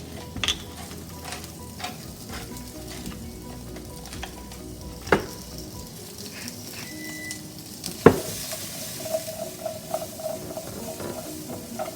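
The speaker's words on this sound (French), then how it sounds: "je vais y envoyer les courgettes" Sliced zucchini sautéing in a hot pan, a steady close sizzle and frying hiss with occasional stirring scrapes and utensil knocks on the pan.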